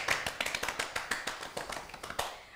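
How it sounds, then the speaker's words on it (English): Brief applause from a small group, a run of light, quick handclaps that fade over a couple of seconds. "Let's give them a clap, guys."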